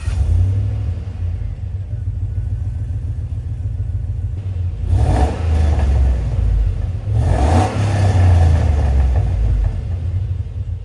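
Engine of a 2008 Chevrolet Silverado pickup revving through its stock exhaust, a loud steady low rumble that swells in two distinct rev bursts with no one talking.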